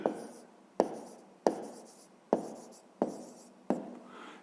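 Pen or chalk writing out a 5th-grade math exercise solution, six distinct close strokes in a steady rhythm, each a sharp tap followed by a short scratchy trail, with no talking.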